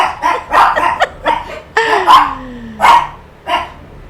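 Several dogs bark in a quick, irregular string of sharp, close barks and yips, with one rising whine-like howl partway through.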